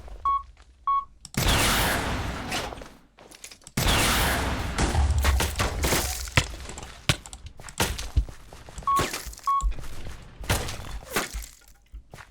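Sniper gunfire and explosive blasts in a Minecraft multiplayer server, heard as loud, heavy bursts that come in two long stretches, with short electronic beeps between them.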